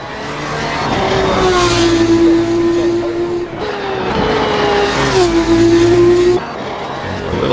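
A powerful open-wheel race car screams along a track in a racing game, its engine note rising steadily through the gears with brief shift dips, loud and close, no voices.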